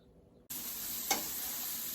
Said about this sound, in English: I'm just stir frying some mushrooms and some yellow zucchini which has just come on in the garden